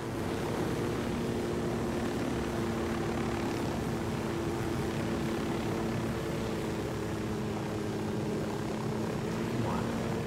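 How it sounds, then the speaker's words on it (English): Helicopter in the Ghost Recon Wildlands video game, a steady droning engine and rotor hum held at even loudness for about ten seconds with no talk. "That's the one thing about flying a helicopter in video games."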